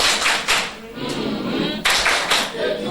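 Audience applause at a charity gathering for an orphanage visit, heard as bursts of clapping that swell and fade, with sharp onsets around the start and again near the two-second mark.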